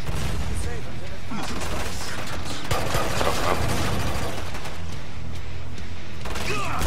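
Rapid gunfire and explosions crackle through a Killing Floor 2 match, with dense bursts of shots overlapping throughout while players talk over the action.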